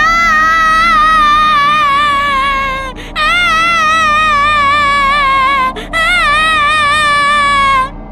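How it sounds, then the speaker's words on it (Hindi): A small child cries in a cartoon story, long wavering wails that break twice for quick breaths, loud, close and alone. "अचानक पूरे गांव में किसी छोटे बच्चे की रोने की आवाज गूंजने लगी"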